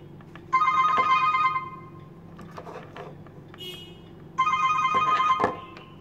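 Phone ringing from a find-phone app, two bursts of electronic ringtone about four seconds apart, clear and close, with quiet handling sounds in between.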